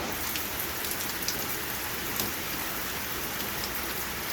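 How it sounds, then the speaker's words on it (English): Pouring rain during a thunderstorm hisses in a dense, even wash, with scattered drops tapping close by and no voices or thunder standing out. "Wow, I love watching this rain."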